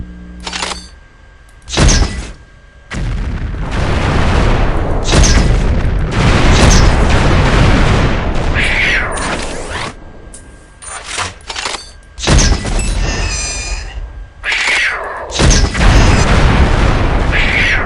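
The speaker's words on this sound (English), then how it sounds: "Notice attacking the primary fire makes grenades explode on contact." Fragmentation grenades from a grenade launcher detonating in Unreal 2: The Awakening, a series of loud, deep booming blasts at irregular intervals, each followed by a short rumbling tail, with brief quieter gaps between.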